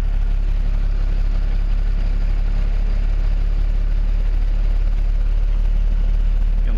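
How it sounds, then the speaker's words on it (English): A 1920 Nash 685 engine idles and warms up with a little throttle, a constant low drone with a faint ticking texture, loud and close, no talk heard. "Give it a little throttle to get it to warm up."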